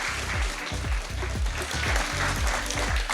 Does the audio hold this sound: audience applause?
yes